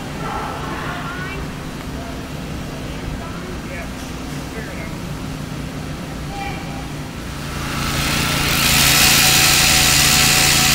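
A power drill whines steadily up close while drilling holes to mount pigeon control netting, its motor growing louder and harsher in the final seconds.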